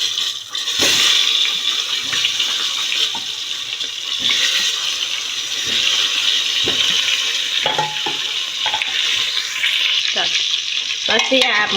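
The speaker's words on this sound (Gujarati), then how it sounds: "રાઈ ફૂટી જાય પછી આપણે તેમાં રીંગણા નાખીશું" Brinjals fry in hot oil with popping mustard seeds, cumin and turmeric, a steady close sizzle broken by scrapes and stirring clatters of a spoon in the pan.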